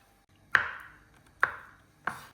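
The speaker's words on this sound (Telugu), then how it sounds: "ఇప్పుడు వీటిల్ని చాప్ చేసేసుకుందాము. వీటిల్ని సన్నగా చాప్ చేసేసుకుందాము." Three sharp knife chops on a cutting board through peeled almonds and pistachios, evenly spaced about a second apart, each a crisp close thud with a short ringing tail.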